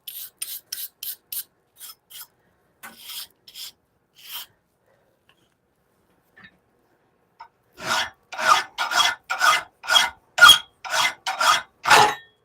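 A hand file is drawn across a hand-forged Bowie knife blade. Crisp, close strokes come in a quick run, pause, then return as louder, evenly spaced rasps.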